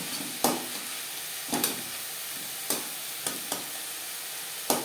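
Fried lentil dumplings are stirred into sautéed beto greens with broad beans and brinjal in a pan: a soft frying hiss under a handful of distinct scraping spoon strokes spaced about a second apart, with no voices.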